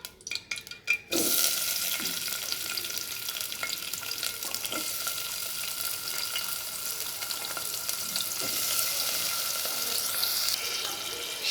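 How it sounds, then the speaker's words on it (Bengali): Chopped onions fry in hot oil in a pan: a brief clatter at first, then a steady, close sizzle that continues without talk. "এখন এগুলোকে একটু ভালো করে ভেজে নেব। দেখুন, আমার পেঁয়াজগুলো ভাজা হয়ে আসছে।"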